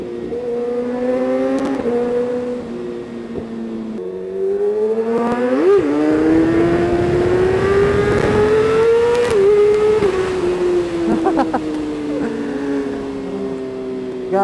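A 2019 Kawasaki ZX-636R motorcycle with a quickshifter revs hard and loud, its engine note climbing through several rapid upshifts with brief cuts between gears, close and steady with no talking.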